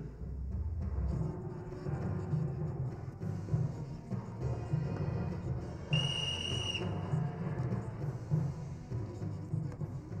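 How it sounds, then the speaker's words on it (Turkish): A sharp, high whistle sounds once for under a second, rising above a steady low background rumble. "Ulan Zülfü, senin düdüğünü bir elime geçirirsem."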